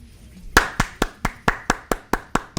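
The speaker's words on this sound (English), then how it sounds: "Clappy clap" Hands clapping in a steady, even rhythm, about ten sharp claps close by, each one distinct and evenly spaced, with no talking.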